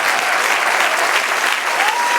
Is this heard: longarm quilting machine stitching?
no